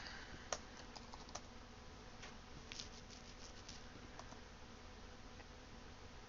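Code is typed on a computer keyboard. Sparse, faint key clicks come irregularly over a low steady hum, with no voice.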